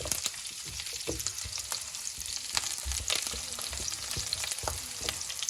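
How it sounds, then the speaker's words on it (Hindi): Three long-cut green chillies frying in oil in a karahi for Balochi chicken karahi, with a crackling sizzle and intermittent scrapes and knocks of a spoon stirring, close and loud with no voices. "अब इसमें जी 3 सब्ज़ मिर्ची ऐसे लंबी लंबी काट के वो भी ऐड कर देनी है और उनको भी थोड़ा थोड़ा सा सेक लगवाना है"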